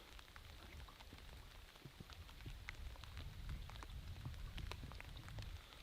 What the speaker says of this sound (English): It's actually just starting to rain.